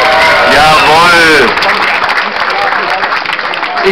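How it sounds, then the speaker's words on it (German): A festival crowd at a German Maifest applauding, loud and sustained throughout, with a voice talking over the start before the clapping carries on alone. "Einen kräftigen Applaus bitte."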